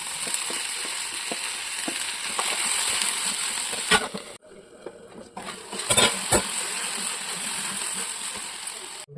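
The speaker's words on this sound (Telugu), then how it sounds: "వంకాయ ముక్కలు వేసి కొద్దిసేపు వేయించి టమాటాలు కొత్తిమీర వేసి మెత్తబడే వరకు వేయించుకోవాలి." Eggplant pieces fry in oil with tomatoes and coriander, giving a steady broadband sizzle and the clatter of stirring. A brief lull comes midway before the frying resumes, with a few sharp utensil knocks.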